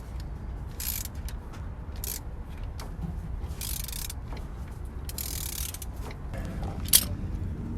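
A ratchet on a wobble extension works at bolts under a 2001 Isuzu Rodeo 3.2 during transmission removal, with bursts of quick metallic clicking spaced between quieter fumbling handling noises and a sharp knock near the end.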